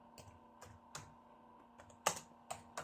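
Typing on a computer keyboard in a quiet room, several separate keystroke clicks landing at irregular intervals, with a sharper, louder pair of taps near the end and no talking.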